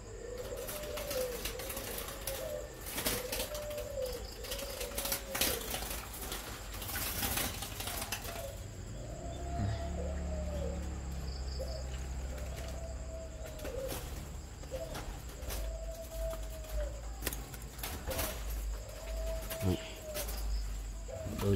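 Repeated soft dove coos sound in a regular rhythm against a busy outdoor background with insects and occasional clatter.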